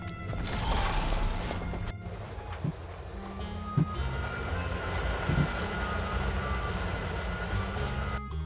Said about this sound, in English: a train suddenly roared past, headed towards the dwarves' city